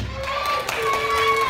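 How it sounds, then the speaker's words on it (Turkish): At a children's puppet show, young audience members cheer and clap for the Nasrettin Hoca puppet, making a short, steady burst of shouting voices and applause. "Nasrettin Hoca'ya alkış"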